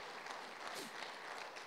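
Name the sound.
congregation clapping hands in church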